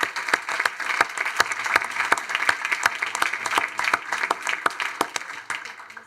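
An audience at a tech entrepreneurship and investment event gives dense, lively applause, many hands clapping at once, close and steady for several seconds.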